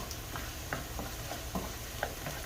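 Onions and garlic sauté in a pan with a quiet, steady sizzle broken by small spoon taps and stirring clicks, heard close with no talk.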